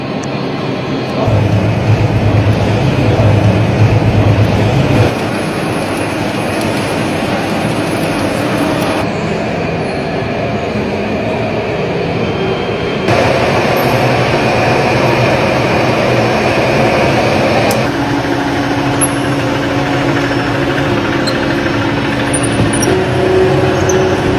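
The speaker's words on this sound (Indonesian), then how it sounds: "cara proses pembuatan kulit lumpia menggunakan mesin" A loud, steady mechanical drone of a running lumpia wrapper making machine with a constant hum and shifting tonal whine, continuous for the whole stretch, no speech.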